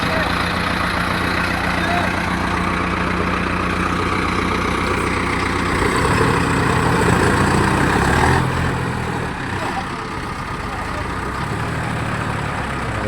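A heavy vehicle mired in deep mud on a badly damaged road strains in a continuous loud, low engine roar that rises briefly and then eases, with people talking throughout.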